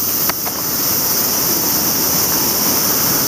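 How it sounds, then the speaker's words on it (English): Rushing river water flows steadily outdoors, a loud, continuous broadband roar with no break, heard alone without talk. "listen to that water move"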